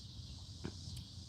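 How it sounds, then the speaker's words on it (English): Katydids sing in a garden at nightfall, a steady high-pitched insect drone running through the whole moment, with a faint low rumble and a soft bump underneath. "You can hear the katydids, cicadas for most people, starting up their nighttime singing"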